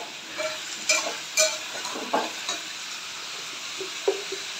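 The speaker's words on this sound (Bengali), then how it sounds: "এবার চাপাটা খুলে আবার একটু ভালো করে নেড়ে দেবো।" Vegetables frying in a pan are stirred after the lid is lifted, with a low sizzle under scattered scraping clinks from the utensil, close and moderately quiet.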